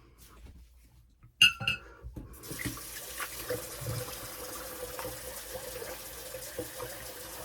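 A tap runs steadily as shaving lather is rinsed off a kamisori razor, with a sharp clink near the start and a quiet, continuous flow of water afterwards.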